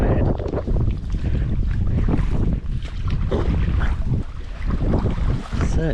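Strong wind roars across the microphone while stand-up paddleboarding on open water, a loud continuous buffeting rush with water sloshing underneath, no talking.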